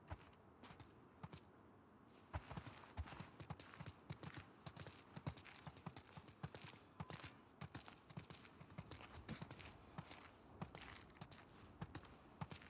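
Horse hooves clip-clopping at a walk in the video game The Last of Us Part II, a quiet, irregular series of close hoof strikes with occasional louder knocks and soft rustle in between, no talking.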